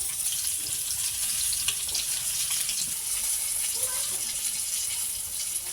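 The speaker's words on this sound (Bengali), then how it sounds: "এখানে এক এক করে আমাদের সব মাছগুলো সুন্দর করে ভাজি করে নিচ্ছে" Fish fry in hot oil in a pan, a steady dense sizzle and crackle that holds at an even level throughout, with faint background noise.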